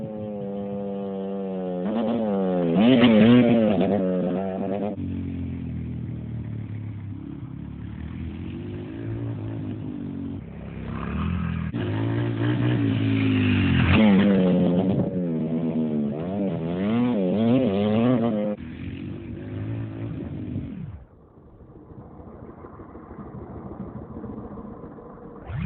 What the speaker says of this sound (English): just ride the motorbikes and stuff and film each other